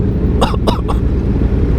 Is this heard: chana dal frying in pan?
no